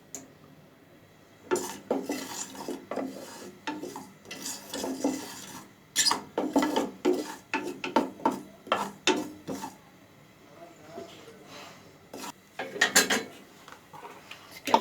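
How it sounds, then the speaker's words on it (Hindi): Mustard seeds being sautéed in a pan, heard as bursts of rapid scraping and rattling stir strokes against the pan, coming in loud clusters with short quiet gaps. "राई, इसको थोड़ा सा सॉटे करेंगे।"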